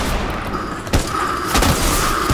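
Shotgun blasts in the video game Fortnite during a team brawl match, two sharp booming shots about half a second apart, loud and close, with no talk over them.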